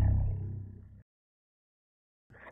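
A deep, rough lion-like roar made by a voice pitched down with the Qneo Voice Synth, fading over about a second, then silence and a short growl at the end.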